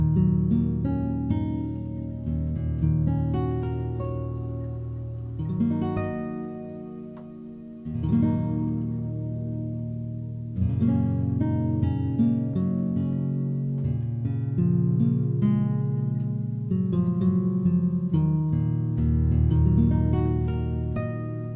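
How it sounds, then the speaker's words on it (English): Sampled nylon-string classical guitar tones played on a Waldorf Quantum synthesizer as flowing chords and melody, warm and sustained, continuous with no voices. "a collection of samples that I've recorded from a nylon classical guitar"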